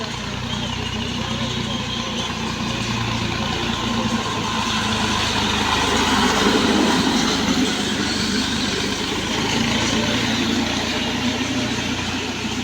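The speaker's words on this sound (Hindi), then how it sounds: "ये बड़े बड़े लोनों में ना घास ऐसे काटते हैं ट्रैक्टर के साथ लगा के मशीन" A tractor-mounted mowing machine cuts grass on a large lawn, a continuous mechanical rumble and rattling drone running steadily throughout, with someone talking over it.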